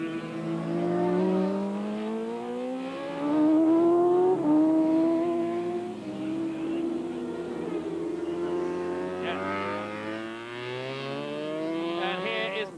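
Racing motorcycles at the 1986 Transatlantic Challenge on the Darlington Park circuit roar past with engine pitch dropping and rising through gear changes, a steady distant-to-mid drone under race commentary.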